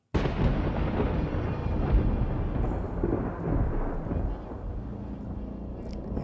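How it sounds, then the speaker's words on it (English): A thunderclap sound effect accompanies added lightning in a Star Wars Ahsoka fan edit, a loud, sustained rolling rumble that swells early and slowly fades over several seconds. "In my version, we have some lightning up here,"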